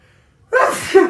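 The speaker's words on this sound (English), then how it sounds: "Oh, I gotta sneeze." A single sharp, loud sneeze bursts out close up after a moment of near silence.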